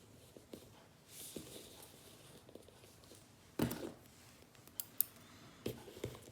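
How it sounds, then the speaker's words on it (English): Scissors cutting yarn while making a crocheted Christmas bauble decoration, a few sharp, close snips and clicks scattered over quiet handling noise, one louder crunching cut in the middle. "cut the yarn"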